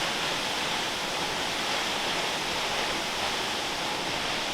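Small waterfall in the Welsh valleys, a constant broadband rush of falling water heard close and loud with no voices.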